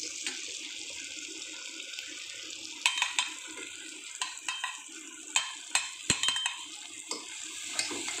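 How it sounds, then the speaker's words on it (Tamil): Ground spice powder is stirred into softened tomatoes for a mutton gravy, with a spoon scraping and clicking against the pan in scattered bursts over a soft, steady sizzle, close and with no talking. "அது நல்லா கலக்கிக்கோங்க."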